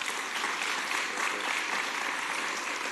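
An audience at a city council meeting claps steadily for about three seconds, the applause dense and fairly close throughout.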